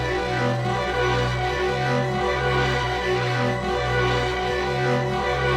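Layered synth melodies built in Serum 2 and FL Studio play together in a steady, repeating loop with dense sustained tones and a low bass pattern, loud and continuous with no talking.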